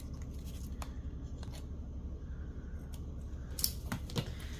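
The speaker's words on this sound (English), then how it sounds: "trim up these little excess pieces here that might have slightly overlapped" Scissors trimming overlapping excess pieces from a paper bone-shaped tag: a few soft, close snips and crisp paper clicks over a low steady background hum, no talk.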